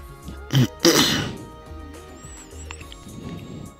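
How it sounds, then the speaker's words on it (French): A couple of quick, harsh coughs from a sore throat sound close by, followed by quieter rustling and faint background noise. "je tousse un petit peu"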